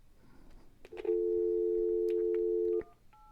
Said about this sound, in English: So the unit's dialing a phone number now.